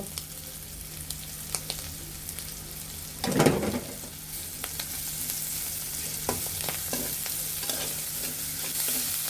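Black cumin and radhuni seeds frying with onions in a pan for prawn chorchori, a steady close sizzle broken by a loud stir-scrape in the middle and scattered crackles and utensil clicks.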